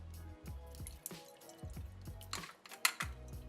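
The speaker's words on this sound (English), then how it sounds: "take it over to the sink, and we will dump out the water" Water from soaked steel-cut oats is poured through a strainer into a sink, a close series of wet drips, splashes and gurgling trickles with a few sharper clinks against the metal.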